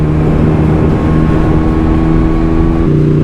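A motorcycle on a road trip, a roadster ridden at steady speed, gives a loud, continuous engine drone with a slight pitch shift near the end and constant wind rush, with no talk.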